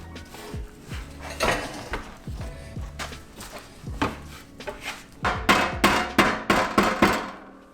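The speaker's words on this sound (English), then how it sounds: "I have to do it with like a hammer or something" A hammer strikes a metal bracket on a homemade mini tank trike to bend it, giving a series of sharp, irregular metallic knocks that bunch into quicker, louder blows toward the end.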